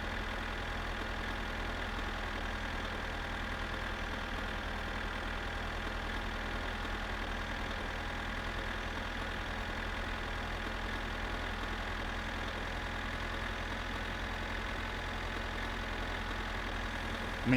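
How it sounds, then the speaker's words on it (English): A tractor engine idles in My Summer Car, giving a steady, unbroken low drone with an even hum that holds at the same level the whole time. "Is the tractor noise too loud compared to the music?"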